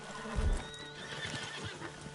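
A horse in the video game Red Dead Redemption 2 whinnies and snorts at close range, followed by hoof clip-clops and rustling over a continuous ambient wash.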